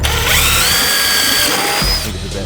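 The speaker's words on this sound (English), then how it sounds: "You just want to make sure that you're drilling on this side" A power drill whirs loudly up close, drilling into a 2023 Ford Super Duty truck for LED light installation, its motor pitch rising and holding, then it winds down as the bit stops.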